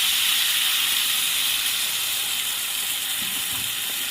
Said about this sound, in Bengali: এখন আমি এর মধ্যে দিয়ে দেবো 1 বাটি জল।